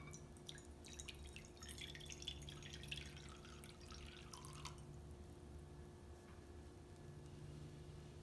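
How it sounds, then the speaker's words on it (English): Room temperature water poured into a bowl trickles and splashes for about five seconds, close and quiet, then gives way to a low background hum. "I'm going to start by pouring some water in my bowl"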